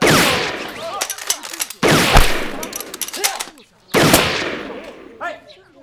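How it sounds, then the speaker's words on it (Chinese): Gunfire in a military camp in a war drama: three loud, close bursts of rapid shots, each trailing off in an echoing decay with short gaps between. "军营里边你乱开枪"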